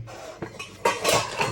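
A metal lid clanks onto a cooking pot of corned beef and rice with a couple of short scraping knocks, close and fairly loud, ending in a brighter rattle.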